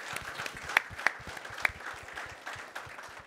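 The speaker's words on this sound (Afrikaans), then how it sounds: "Kom ons gee 'n klein hande klapie vir die Sanlam Boland Cavaliers." Audience applause for the Sanlam Boland Cavaliers squad at their squad announcement, a light scattering of hand claps with a few sharper, louder claps standing out, fairly distant and sparse over room noise.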